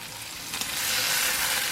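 Strips of American pork belly bacon sizzle and crackle steadily in a hot pan, a dense close hiss that grows slightly louder, with no talking.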